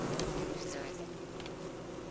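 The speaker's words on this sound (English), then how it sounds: "Okay, there's that bee." A bee buzzes in the Don't Starve: Reign of Giants video game, a steady droning hum running through the whole short stretch over game ambience.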